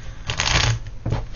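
Playing cards are shuffled and drawn for a card reading, giving a close, continuous papery riffling and sliding with a second short burst near the end. No one speaks.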